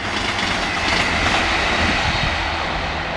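An East Midlands passenger unit runs past near Marholm and Werrington, a steady broad rumble with rail noise holding at an even, fairly loud level throughout.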